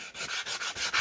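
Coarse 80-grit sandpaper worked by hand across painted metal on a Mustang body, about six rhythmic rasping strokes in a quick, close, steady sequence with no talk.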